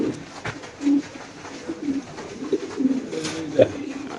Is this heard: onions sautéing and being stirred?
no